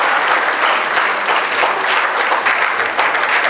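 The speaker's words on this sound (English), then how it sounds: "give a big, huge round of applause for the VP of Business Development, CN Tigley" Dense, loud applause from a crowd at a corporate kickoff event in Toronto, welcoming a VP of Business Development, sustained and even from start to finish.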